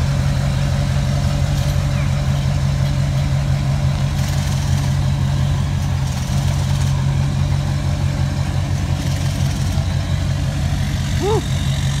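A diesel pickup truck idles at a busy truck show in a packed parking lot, a close, steady low engine rumble with a droning hum, while people talk nearby.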